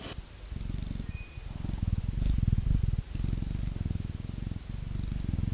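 Close, steady cat purring with a rhythmic rumble that rises and falls with each breath, running the whole time with no voices.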